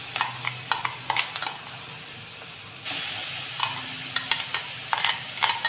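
Crushed spice mix for a jackfruit seed stir-fry hits hot oil in a pan with curry leaves, setting off a sudden steady sizzle and hiss amid scattered stirring clicks and scrapes, close and moderately loud.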